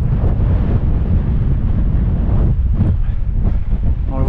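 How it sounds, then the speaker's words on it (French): Strong mountain wind buffets the microphone during a mountain bike ride near the Chalets de Clapeyto, a steady loud roar filling the whole clip with gusty low rumble and no speech. "il y a du vent"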